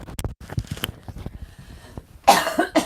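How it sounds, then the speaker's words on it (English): Woman coughing during a live tarot reading, a run of short quiet throat bursts and breaths followed by a louder, harsher cough burst near the end. "Goodness, I have to cough."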